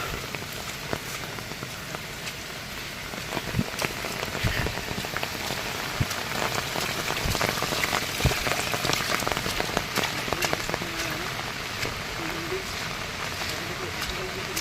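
Heavy rain pours steadily onto surfaces, with dense patter and scattered louder drops, continuous throughout.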